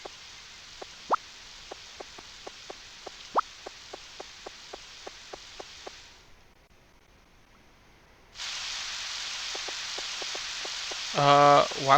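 Rain falls in the Nintendo 64 game Harvest Moon 64 as a steady synthetic hiss with regular ticking drops, cutting out briefly, then returning louder before a tonal game chime.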